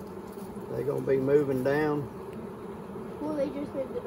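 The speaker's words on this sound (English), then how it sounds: "you can hear them bees' attitude changing right now" Honeybees buzz loudly and close around an open hive during a honey harvest on a cloudy day, a wavering drone that swells and fades while a person talks over it.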